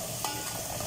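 Liver and gizzard adobo with onion stirred in a pan, a brief scrape over a continuous soft sizzle at moderate level.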